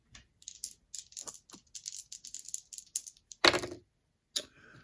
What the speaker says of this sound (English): I'll have to roll two dice